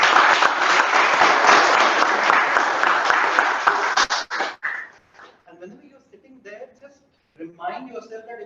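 Enthusiastic applause at a Toastmasters club meeting, dense clapping for about four seconds that breaks off into a few scattered claps, followed by a person speaking.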